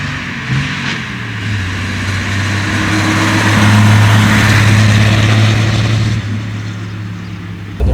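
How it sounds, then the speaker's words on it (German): A 1933 Lagonda M45 tourer prototype with a 4.5-litre inline six-cylinder engine of about 130 hp runs loud and close, a steady deep rumble that swells to a stronger rev in the middle before easing back. "Also der Sound von dem Auto ist schon beeindruckend."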